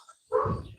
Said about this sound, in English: Dogs are barking inside. Can you guys hear that?